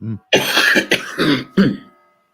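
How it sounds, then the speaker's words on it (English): A few harsh, close coughs in quick succession, raspy and throaty, separated by short gaps of silence. "Still got a cough, huh? Yeah, I got a cough."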